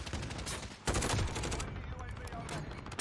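Dense, rapid automatic gunfire and bursts fill the whole stretch in Call of Duty: Modern Warfare ground war, with no breaks. It is loud and close, and gameplay noise blends into the shooting.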